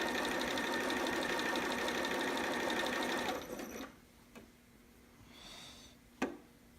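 A sewing machine runs steadily as it stitches romper fabric, a loud, fast continuous whir for a few seconds, then stops, leaving quiet room tone with a couple of faint clicks and handling knocks.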